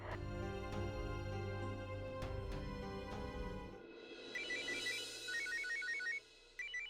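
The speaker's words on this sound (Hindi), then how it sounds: "अरे अनुष्का जी का फोन" A phone rings with a repeating electronic ringtone melody, moderately loud, over a droning background with a few sharp knocks; no talking.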